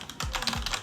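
Keystrokes on a Logitech G915 Lightsync clicky wireless RGB keyboard, a few quick, close clicks with low thuds, sounding alone without voices.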